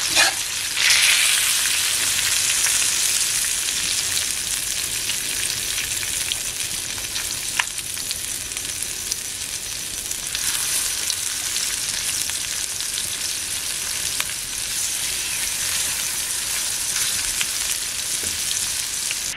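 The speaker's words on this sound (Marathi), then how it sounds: "त्याच्यानंतर मग बाकीची जी मच्छी आहे ती आपल्याला ह्याच्यामध्ये फ्राय करायची आहे" Khadas river fish frying in a pan over a wood-fired chulha stove in Konkan, a steady, loud, hissing sizzle that continues unbroken throughout, close up with no speech.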